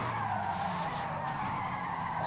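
A car in the racing game Forza Horizon 5 skids with a steady, sustained tire squeal and engine roar, heard loud and continuous for a couple of seconds.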